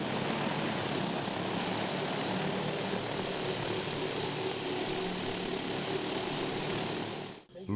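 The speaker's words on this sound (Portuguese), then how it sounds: "O drone é usado para aplicação de defensivos agrícolas e pode aumentar a produção." An agricultural spraying drone over a coffee and grain farm in southern Minas Gerais drones loudly and continuously with a dense rotor whine that cuts off abruptly near the end.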